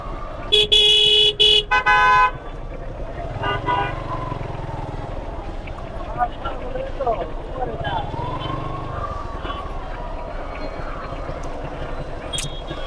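A road traffic jam in hot weather: several loud car horns honk in quick bursts at the start, then an engine rumble and a passing vehicle continue under a person talking.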